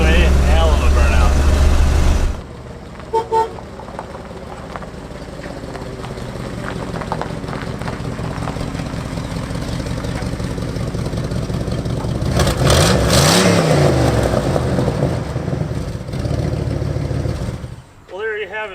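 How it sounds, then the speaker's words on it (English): A 1971 Lincoln Continental engine roars loudly, dropping to a steady droning rev that builds into a rising surge as the car does a burnout, with voices faint in the background. "It'll do a hell of a burnout."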